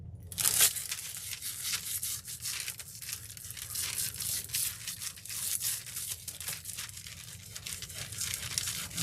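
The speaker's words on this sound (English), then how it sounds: "take your time and scrub. Really scrub." Close, continuous crinkly rubbing as foil is scrubbed onto a textured satin box, with rapid irregular scratchy strokes and a sharper crackle near the start.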